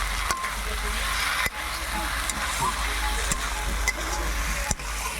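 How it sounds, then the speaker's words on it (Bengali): Chicken being sautéed in a pan for a thin chicken curry, with a steady close sizzle and faint stirring scrapes and occasional clicks of a utensil against the pan throughout. "ভালো করে কষানো হচ্ছে।"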